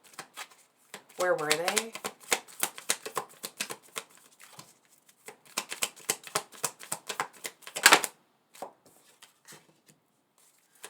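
Tarot cards are shuffled for a Virgo reading: rapid riffling and tapping bursts come in uneven clusters, close and crisp, while a voice talks intermittently.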